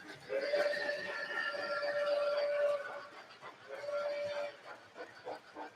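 An MTH model steam train whistle sounds in two blasts, a long steady tone followed by a shorter one, with a slightly howling, reedy quality.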